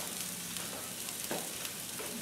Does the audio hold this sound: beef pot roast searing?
yes